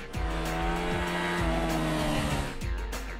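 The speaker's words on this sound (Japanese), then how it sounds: "V ツインエンジンならではの鼓動感あふれるサウンドをも実現している" A 2009 Honda VTR 250 V-twin motorcycle engine with a 2-into-1 muffler revs loudly and close, its throttle blips rising and falling in a pulsing, throbby exhaust note heard alone.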